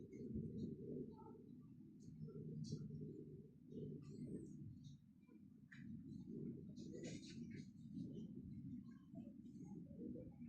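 Racing pigeons of a Xırdalan pigeon club coo softly and repeatedly near a loft, their low murmuring continuous across the scene with faint higher chirps scattered over it.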